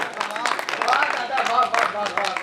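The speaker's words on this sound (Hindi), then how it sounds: "एक बार जोरदार तालियां" Lively audience clapping at a Hindi poetry recital during a birthday celebration gathering of poets, a dense patter heard together with voices calling out over it throughout.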